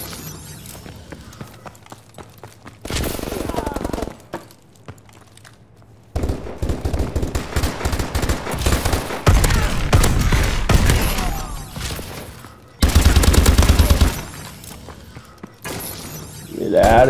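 Bursts of automatic gunfire in Call of Duty: Advanced Warfare Gun Game, loud rapid volleys of several seconds each separated by quieter gaps, with voices talking between the shots.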